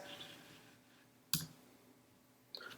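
A single crisp computer mouse click on a Mac, sharp and close, with a second fainter click near the end against a quiet background.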